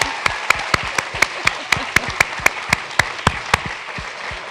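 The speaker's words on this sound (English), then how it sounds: "Another round of applause." A live audience applauds at a mental health storytelling show in Boston, sharp regular claps standing out over a dense bed of hand clapping, steady and fairly loud for the whole stretch.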